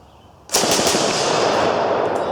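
1926 Hotchkiss machine gun firing from a strip: a sudden loud burst of rapid fire that starts half a second in and rolls on as a dense, harsh roar, close by, with no talk.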